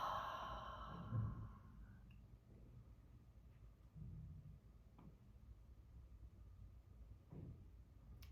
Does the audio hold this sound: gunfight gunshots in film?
no